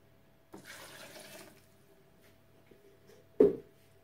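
Water poured into a Thermomix TM6 mixing bowl while making chicken meatloaf, a steady splashing stream lasting about a second, followed later by a short, louder slosh.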